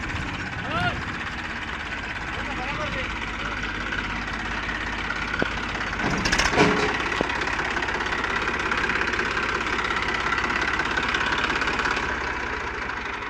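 A tractor engine runs steadily throughout, a continuous droning rumble with a brief louder clatter in the middle, while people talk over it.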